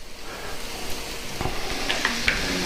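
Garlic sizzles in a hot pan with steak, a steady close frying hiss with small pops and a few stirring scrapes.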